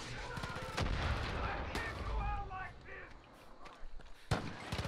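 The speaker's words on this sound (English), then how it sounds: "Ooh, they're shooting at us." Enemy gunfire in Far Cry 5 arcade gameplay, scattered shots and bursts cracking amid dense game noise, with a player's voice speaking over it.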